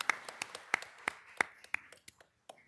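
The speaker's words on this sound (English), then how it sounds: "Let's give Charlie a round of applause." Scattered clapping from a small audience at a court ceremony, with sharp, separate claps coming unevenly and thinning out toward the end, fairly quiet.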